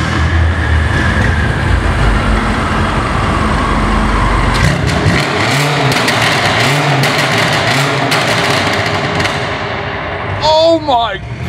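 A loud engine rumbles steadily, then rises in a few deep revving swells; voices chatter over it and a high whine rises near the end.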